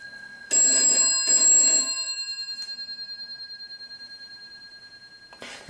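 An old telephone's bell rings loudly in two short bursts, then a long metallic shimmer slowly decays and pulses away, with no talking.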